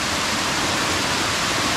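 Water cascading down over rocks rather than dropping freely, in the Jujeongol valley on Seoraksan's southern slopes, a steady, dense, full-band rush with no pauses or voices.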